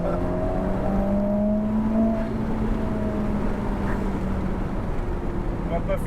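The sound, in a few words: Ferrari sports car accelerating on open road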